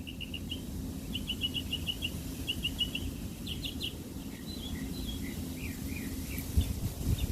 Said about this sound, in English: Let the birds chirp.